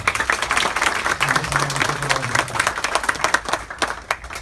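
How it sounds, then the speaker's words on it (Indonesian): Audience applause for new graduates at a university graduation ceremony, a steady dense wash of many hands clapping throughout, moderately loud with no speech over it. "Ya, kita berikan tepuk tangan."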